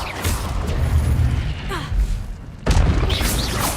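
A Levioso spell cast in Hogwarts Legacy lands as a booming magical burst with crashing, whooshing effects, loud and sustained, with a second strong impact partway through and a voice speaking over it.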